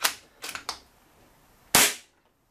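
Air Arms S200 air rifle fitted with a Webley magazine firing a pellet: a sharp close crack at the start, small clicks of the action, then a second sharp report, with silence between.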